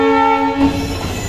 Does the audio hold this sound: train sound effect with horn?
yes